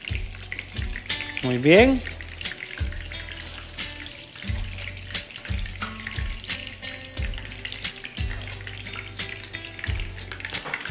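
Double-breaded sausages fry in very hot oil, a steady crackling sizzle under someone speaking Spanish nearby, with recurring low thumps and a brief rising whistle-like tone.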